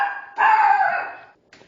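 A dog barks inside a building under renovation, one sustained strained bark or howl close by, then a short fainter second yelp after a brief pause.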